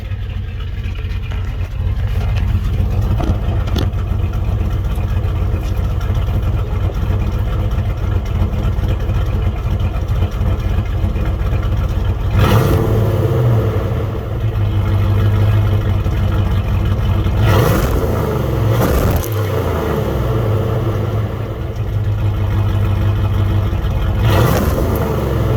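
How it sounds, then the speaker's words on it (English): A cammed 5.9 V8 in a first-generation Dodge Durango SLT runs through its stock muffler, a loud steady lopey idle with a few short revs blipping up and dropping back. "I'll try to get you guys some revs with the stock exhaust"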